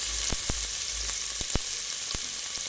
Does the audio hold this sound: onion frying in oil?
yes